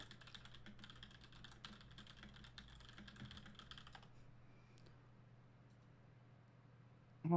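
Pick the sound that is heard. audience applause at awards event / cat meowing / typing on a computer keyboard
typing on a computer keyboard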